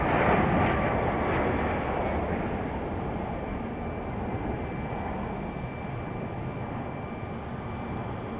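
An Icelandair airliner departs Raleigh Durham airport bound for Reykjavik, its steady, broadband jet roar loudest at the start and easing slightly as it continues.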